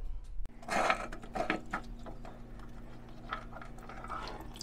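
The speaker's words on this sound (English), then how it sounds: "Let's pull that drain plug and see what the oil looks like." Water splashes and trickles out of the oil pan drain of a 1959 Chevy Apache truck parked for decades, a short gush then steady dribbling into a container close by, with no voices.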